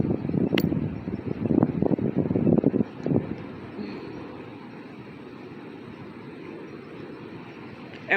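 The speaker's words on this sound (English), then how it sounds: "Just like right now, the wind's blowing" Wind blows across an outdoor terrace, a low rumbling gusty roar that is strongest early with buffeting bursts, then settles into a softer steady rush, close to the microphone with no voices.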